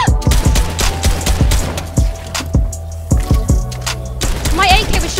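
AK rifle bursts in a video game, rapid loud repeated shots in quick clusters across the clip, with a brief tonal sound near the end.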